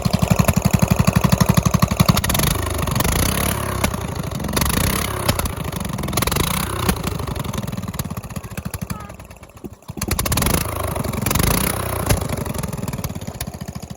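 Small engine of a lawn tractor mower under repair with a makeshift throttle, running steadily with a rough clattering idle, loud and close, dipping briefly near the end before picking up again.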